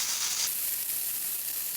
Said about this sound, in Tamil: இந்த டைமில் வந்து இந்த பேபிகார்னை வதக்கி விட்டுக்கலாம்.